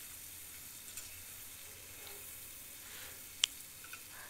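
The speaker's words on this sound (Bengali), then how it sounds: "করে নিচ্ছি বাচ্চাদের জন্য একটু নুডলস সসেস দিয়ে, আর দিয়েছি red bell paper, capsicum, yellow bell paper, এগুলো দিয়ে একটা নুডলস তৈরি করে নিচ্ছি আমি" Noodles frying with sausages, red and yellow bell peppers and capsicum in a pan: a soft, steady sizzle, faint and continuous, with a single sharp tick from a utensil partway through.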